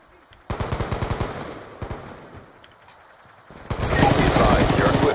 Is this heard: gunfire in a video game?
yes